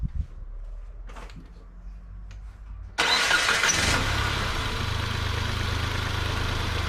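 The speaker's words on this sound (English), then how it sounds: "So I'm going to start the vehicle up." A 2012 Nissan Versa with a rough idle starts after a few seconds of quiet background clatter, cranking briefly before settling into a steady, moderately loud idle hum.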